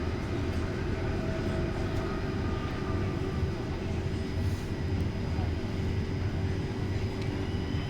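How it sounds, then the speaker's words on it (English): An Italo train heading north past a Rome station, a steady heavy rail rumble with a constant low drone and faint high whine that holds evenly throughout. "An Italo train again,"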